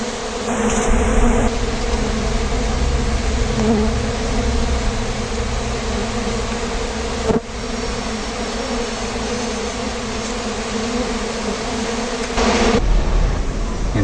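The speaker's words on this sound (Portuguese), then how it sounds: "as abelhas se movimentam muito" Steady, dense buzzing of many stingless bees around their hive, close by, a continuous droning hum that stays loud and even throughout.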